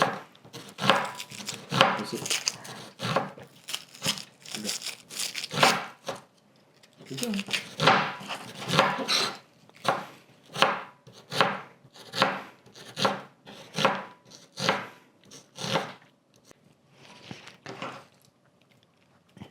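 A knife slices halved onions thinly on a board in steady, rhythmic bursts of close, crisp cuts, with short pauses between runs.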